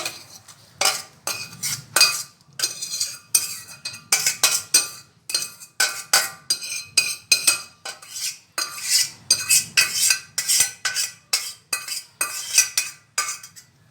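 Plates and cutlery clink in a kitchen as a village-style zucchini dish is tipped onto a plate, with a steady run of close, sharp metallic and ceramic knocks that come in quick irregular bursts with no one talking.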